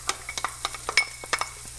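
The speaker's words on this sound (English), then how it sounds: "our pan's nice and hot. This should sizzle," Onions sizzling in a hot pan, with quick scraping stirs giving a run of sharp, close ticks and hisses over a faint low background hum.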